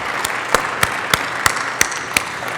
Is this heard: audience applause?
yes